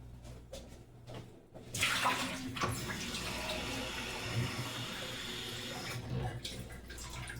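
Tap water runs steadily as the water is changed out, a continuous close splashing stream with brief bursts and pauses at the start and end.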